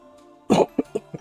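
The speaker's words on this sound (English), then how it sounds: "I've still got a bit of a cough" One person coughs, a strong first burst followed by three smaller, quicker coughs, close and clear against a quiet background.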